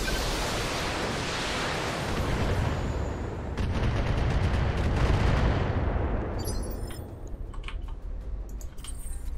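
Mech weapons in the BattleTech game fire in a dense, continuous barrage of loud noisy blasts, trailing off into scattered sharp clicks and pops near the end.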